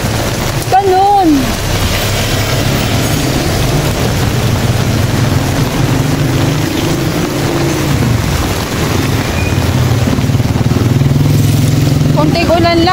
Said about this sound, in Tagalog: Konting ulan lang, bahana.